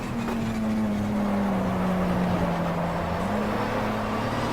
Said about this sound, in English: I think we've got a GT car on our right hand side here.